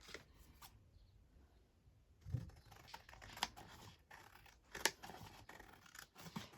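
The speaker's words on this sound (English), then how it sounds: "So it's probably a good idea just to cut them." Scissors trimming old 160 GSM cardstock postcards, a few quiet, sharp snips and crisp paper rustles spaced apart against near silence.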